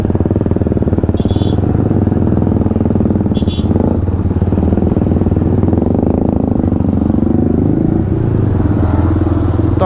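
Stop-and-go traffic jam on the road up to Nahargarh Fort, Jaipur, from aboard a Yamaha MT-15: a near, steady motorcycle engine drone with other vehicles around and two short horn honks early on.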